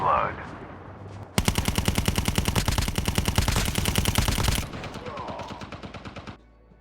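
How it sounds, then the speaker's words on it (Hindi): Call of Duty Mobile gameplay with gunfire: a loud, rapid automatic burst lasts about three seconds and is followed by a softer string of shots trailing off. Other weapon noise sits before and after the burst. "मुझे सामने से गन फायर के साउंड आते हैं"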